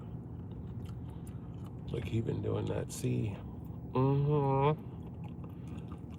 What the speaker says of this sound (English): I'm so sorry for chewing gum so loud